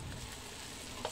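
Boneless pork chop frying in a small amount of oil in a pan, a steady close sizzle with a faint clink near the end.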